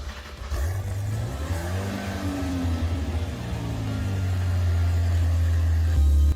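Zenvo TSRS supercar engine starting in the Driving Empire racing game, a brief starter whir that rises into a deep low idle rumble, swelling louder and steadier toward the end, with no talk.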